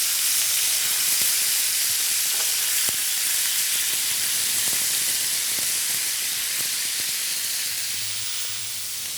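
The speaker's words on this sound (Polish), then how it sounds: "Ostre smażenie, wentylator się włączył." Beef tenderloin sears over a very high burner, a loud continuous sizzle and hiss with small crackles and pops, steady throughout, a ventilation fan running underneath.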